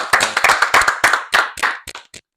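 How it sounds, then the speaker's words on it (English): A small group claps for a conference-champion women's basketball team, a short burst of close, distinct handclaps that thins out and stops after about two seconds. "Round of applause for them"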